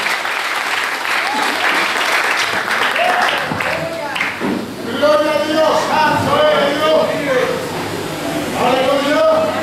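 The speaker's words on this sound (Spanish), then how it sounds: "Dale un aplauso al Señor" A church congregation claps together at a sermon, sustained loud applause filling the room throughout, with a voice speaking over it and sung or shouted tones rising in the second half.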